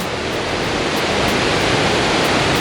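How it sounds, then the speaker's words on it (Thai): The 43-metre Yung Thong waterfall in Na Yung–Nam Som National Park, Udon Thani, roars as a loud, unbroken wash of falling water, close and steady throughout. "นะครับน้ำตกยุงทองสีขาวก็อยู่ข้างหน้านี่นะครับ"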